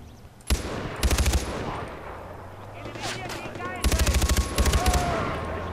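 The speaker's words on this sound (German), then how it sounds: "Ein Schuss." Gunfire in Far Cry 4 comes as rapid automatic bursts, one after a single sharp shot and a longer burst near the end, loud over game ambience, with someone talking between them.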